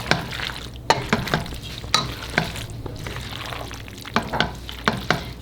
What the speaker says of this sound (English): Now I'm going to add the tomatoes. Mix those around.